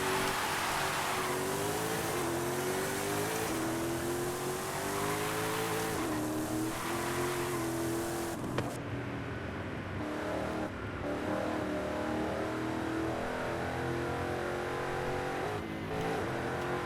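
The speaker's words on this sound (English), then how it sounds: "Let's see what happens when we rev her up and dump her like I did the first in the stock one." A 1965 Ford Transit van in the Forza Horizon 5 video game roars continuously as its engine revs and the wheels spin, with rising and falling pitch sweeps, no voices.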